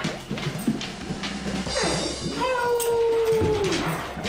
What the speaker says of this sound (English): New Guinea singing dog.